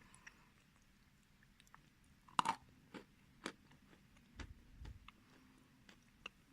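Edible kaolin clay is bitten with one crisp crunch, then chewed in soft, scattered clicks and muffled mouth sounds, close and quiet against near silence.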